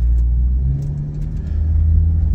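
A 1995 Toyota Land Cruiser FZJ80 driving on local roads, heard from inside the cabin as a steady low engine and road rumble with a slight rise in pitch as it pulls along.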